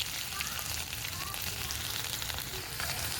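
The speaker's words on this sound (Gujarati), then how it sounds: "હવે જે આપણે લસણની પેસ્ટ તૈયાર કરી તે અંદર નાખીશું" Garlic paste hits hot oil tempered with mustard seeds and cumin, giving a steady, close hiss of frying that stays even throughout.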